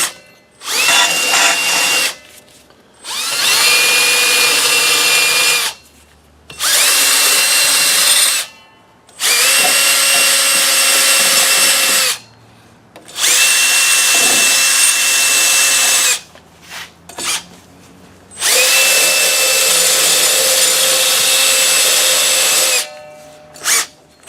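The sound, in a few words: fiber disc grinding brake drum surfaces clean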